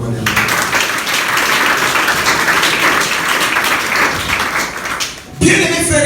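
A church congregation breaks into sustained applause during a French-language worship service, a dense, loud wash of clapping that fills the space for several seconds before cutting off abruptly.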